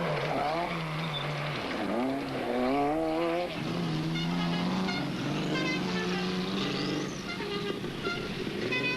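Rally buggies and cars race past in Spain, engines revving and whining with rising and falling pitch as they pass, loud and fairly close with a steady roar beneath.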